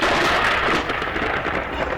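Heavy rain pours steadily outside a shed in a dense, close hiss, with a low rumbling undertone running throughout.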